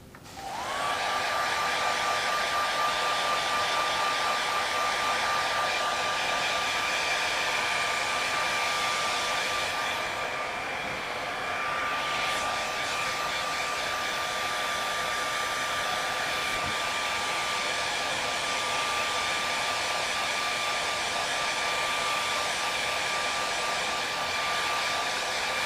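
A hair dryer blows loud and steady at close range for the whole stretch, drying acrylic paint on a canvas with a constant whooshing hum and a thin motor whine.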